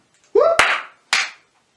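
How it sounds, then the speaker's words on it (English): A short voiced sound leads into two sharp hand claps about half a second apart, close and loud in a quiet room. "You don't need to clap."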